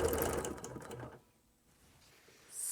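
Sewing machine stitching a straight quilting line, a steady rapid run of needle strokes for about a second, then a pause before the motor starts up again at the end, with no talking.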